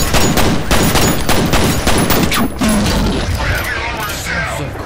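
Rapid automatic gunfire in the video game F.E.A.R., a fast loud stream of shots with mechanical clatter that thins out toward the end, close and dominant.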